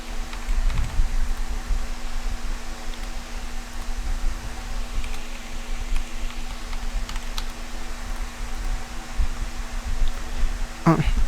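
Soft computer keyboard keystrokes while a password is entered, with a few scattered key taps over a constant fan hum and a quick burst of clicks near the end.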